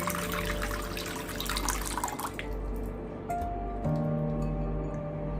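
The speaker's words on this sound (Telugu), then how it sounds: "ఈ బౌల్లో కొంచెం వాటర్ వేసి" Water is poured into a bowl as a steady, close splashing stream that stops partway through, leaving tonal background music playing.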